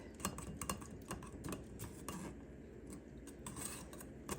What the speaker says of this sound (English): we're going to take a spoon and just squeeze that liquid out